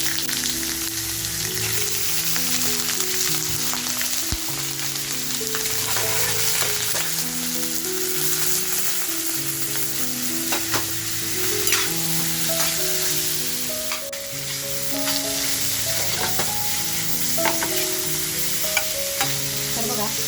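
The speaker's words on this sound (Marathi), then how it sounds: "आता जी चॉप घेतली आहेत ना ते चॉपसुद्धा तेलात टाकून घेणार" Mutton chops for tandoori chop frying in hot oil, a loud, steady, dense sizzle that holds close and continuous throughout with faint scrapes and bubbling, no voices.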